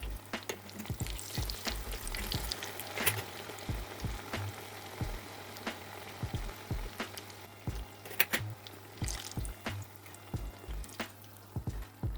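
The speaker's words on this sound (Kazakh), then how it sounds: "күнбағыс майы қызығаннан кейін баялдыларымызды қуырып бастаймыз." Eggplant slices fry in sunflower oil over low heat, giving a steady close sizzle broken by frequent sharp pops and crackles. A low hum runs underneath, and no one speaks.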